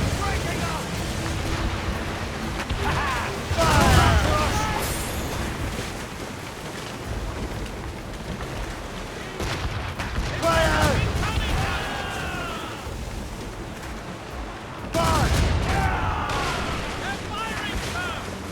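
Ship cannon fire during a naval battle in Assassin's Creed Rogue, heavy booming volleys landing around 4, 10.5 and 15 seconds amid roaring sea and wind, with shouting crew voices over the battle.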